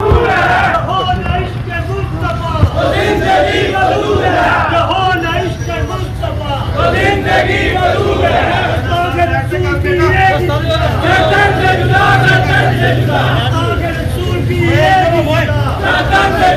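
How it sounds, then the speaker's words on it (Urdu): A large crowd of Muslim marchers chanting slogans on a street in Gujranwala, a loud continuous roar of many voices with engine and traffic noise mixed in. "یہ دیکھیں آگے سے وہ مسلم لوگ آ رہے ہیں اور نعرے لگا رہے ہیں"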